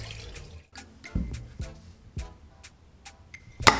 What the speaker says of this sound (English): wash, remove the excess starch and drain off the excess water.